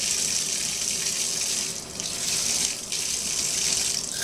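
Steady shower water runs and splashes continuously while a dog is washed, a broad hissing spray that briefly dips and surges as the stream shifts, with no talking.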